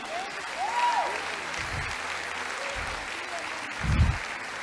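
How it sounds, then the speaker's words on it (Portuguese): A church congregation applauds in a steady, moderately loud wash of clapping, with a voice calling out briefly over it and a few low thumps. "Aplaude ele, aplaude."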